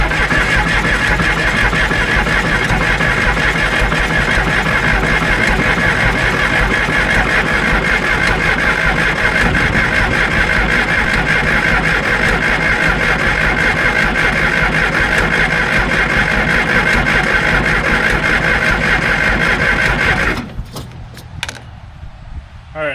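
A John Deere 350C dozer diesel engine cranks and runs steadily after injector repair, a loud continuous low chugging that holds for about twenty seconds before cutting off abruptly, leaving a few faint clicks.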